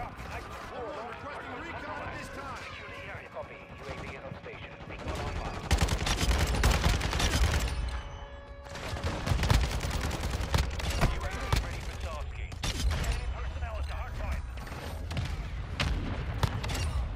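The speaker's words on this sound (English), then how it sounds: "Man trying to shoot an MGB at the sky." Machine gun fire from an RPK-style light machine gun in Modern Warfare 2 multiplayer, loud sustained bursts with heavy low-end thump throughout, rattling fast and dense, with occasional game voices mixed in.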